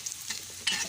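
Marinated chicken necks frying in hot oil, a soft crackle and sizzle with a couple of brief louder spits, fairly quiet.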